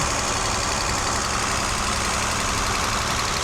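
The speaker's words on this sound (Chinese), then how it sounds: "因为这颗引擎它没有积碳，所以说吹方式吹起来是相当顺畅的。" A Mercedes W116 280SEL engine, free of carbon buildup, runs steadily at idle during an engine test, a continuous dense mechanical drone with no pauses or talk over it.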